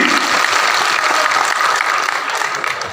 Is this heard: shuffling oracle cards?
no